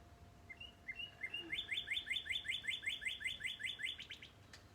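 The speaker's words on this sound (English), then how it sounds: "Birds sound nice." A bird gives a quick run of bright, evenly spaced chirps, about a dozen notes repeated in a steady rhythm, fairly faint against a quiet, hissy background.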